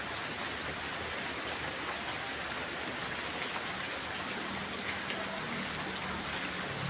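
Steady rain hisses evenly throughout, a dense wash of patter with no pauses and no voices.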